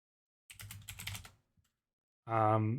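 Rapid clicking of computer keyboard keys, a quick burst of close typing lasting about a second, followed by a short pause and then a person speaking.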